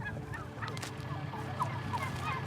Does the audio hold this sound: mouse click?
no